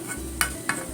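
Bean-sprout omelette cooking in a pan over low heat, giving a soft steady sizzle broken by two brief scraping clicks, close by with no talking.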